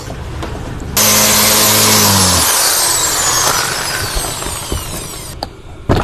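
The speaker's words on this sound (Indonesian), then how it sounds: "Kita pakai bor biar cepet ya. Bornya diputar arah ke kiri." A power drill whirs loudly and steadily, grinding as it backs out a bolt while taking apart a washing machine, with a brief low mechanical tone at the start and a rattle near the end.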